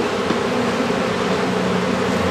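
Honey bees droning inside an open beehive with brood frames in December, a steady low buzzing hum that stays even and close throughout.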